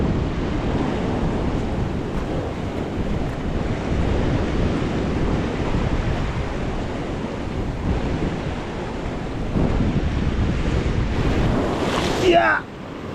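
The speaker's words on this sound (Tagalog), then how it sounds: "medyo wild ang alon" Rough sea waves break and wash against rocks along a rocky shore during rock fishing, a continuous loud roar of surf with gusting wind buffeting the microphone and brief voices near the end.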